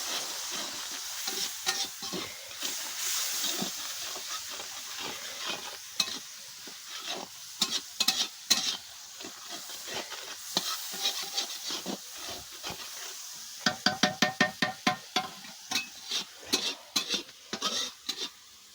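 Spice masala fries in oil in a pan for a home-cooked dish, a steady sizzle under repeated scrapes and knocks of a spoon stirring, with a run of sharper, quicker clacks near the end.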